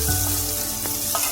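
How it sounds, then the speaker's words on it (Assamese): Garlic dropped into hot oil in a pan while cooking veg momo filling, a steady close sizzle and crackle of frying throughout, with no talking. "তেলখিনি গৰম হৈছে। এতিয়া মই নহৰুখিনি দি দিছোঁ।"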